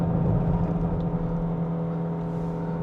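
A Proton eMas 7 PHEV Premium at full throttle in Power Mode on the uphill Genting road in Malaysia gives a steady, moderately loud powertrain whir with a sustained tonal hum and road noise, heard from inside the cabin.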